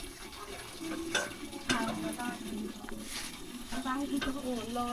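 Villagers in a rural Lao village without electricity scoop water to drink, faint splashing and trickling close by under steady background noise, with a person speaking briefly.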